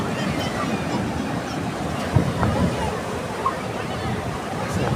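Rough sea waves roll onto a beach at Samiyarpettai, a continuous heavy wash of surf with a low churning rumble, steady and fairly loud throughout.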